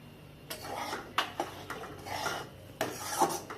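Spatula scraping and stirring wheat flour roasting in ghee in a pan, a close, rasping rub repeated in several strokes with short sharp scrapes between them.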